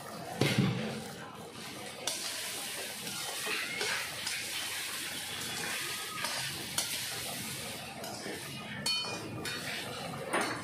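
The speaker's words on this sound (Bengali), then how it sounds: "চালটা একটু ভেজে নেব।" Rice frying and being stirred in a pan with chopped green chillies, a continuous sizzle under repeated scraping and clinking of a spoon against the metal, fairly close.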